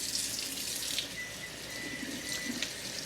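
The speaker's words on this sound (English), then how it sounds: "So I am going to rinse these off" A kitchen faucet runs steadily as fresh farm-box produce is rinsed in the sink, a close, continuous hiss of flowing water with small splashes throughout.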